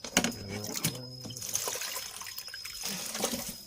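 A little water is poured into a cooking pot of wild ra-ngok mushrooms being prepared for curry, giving a quiet, close trickle and splash that lasts a few seconds.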